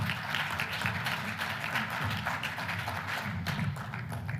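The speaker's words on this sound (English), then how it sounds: "please, a round of applause for Wolfgang Müller" Audience at a climate policy conference panel applauding speaker Wolfgang Müller, with dense, steady clapping from the room.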